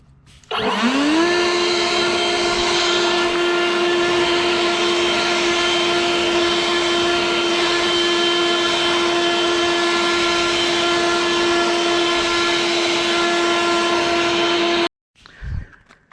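An EGO battery-powered leaf blower spins up quickly to a steady, loud, high electric whine with a strong rushing of air, holding constant for about fourteen seconds before cutting off abruptly.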